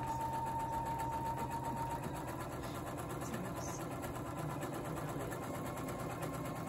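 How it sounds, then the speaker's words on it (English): A sewing machine runs steadily, stitching a quilt block, with a continuous mechanical whir and needle rhythm that stays even and close throughout. "So I am sewing 1/4 inch from each side of my marked line."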